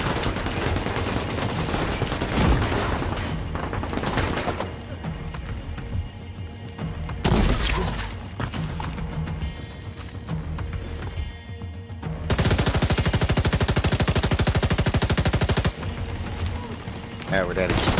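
A deployed turret firing in The Division 2 during a co-op stronghold fight on Roosevelt Island, with loud sustained bursts of automatic gunfire and booming impacts, alternating with quieter stretches of battle noise and occasional voices.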